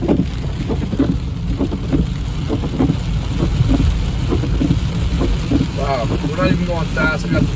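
Heavy rain drums steadily through a thunderstorm at Big Bear, California, with low rumbling thunder rolling underneath, heard from inside a vehicle as people talk over the downpour.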